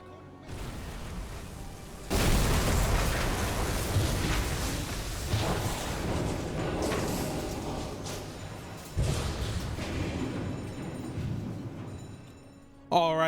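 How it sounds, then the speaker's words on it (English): A torpedo striking a ship amidships near the bridge in the UBOAT submarine game, with a huge secondary explosion: a loud rumbling blast bursts in and roars on with a long, heavy decay, a second surge following later. "had a huge secondary explosion right after the torpedo impacted"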